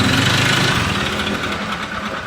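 A motorcycle engine idles loudly and roughly up close, its rattling, uneven putter continuing steadily with no talking.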